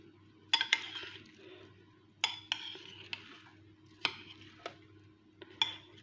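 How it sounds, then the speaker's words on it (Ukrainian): A spoon stirs watermelon salad in a bowl, giving a few distinct clinks and scrapes against the dish spaced about every second or two, close and fairly quiet over a low steady background hum. "Зараз я салат перемішаю."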